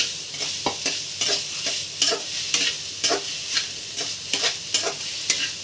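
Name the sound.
stirring and frying coconut barfi mixture in a pan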